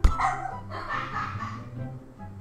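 A shaggy, mop-like dog barks and yips close and loud, with a sharp first bark followed by continued yapping and whimper-like calls in a funny home scene.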